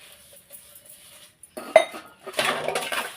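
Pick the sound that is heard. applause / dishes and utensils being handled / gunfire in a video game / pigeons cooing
dishes and utensils being handled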